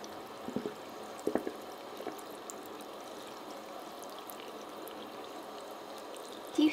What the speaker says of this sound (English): So let's turn our water on and get some more lather going.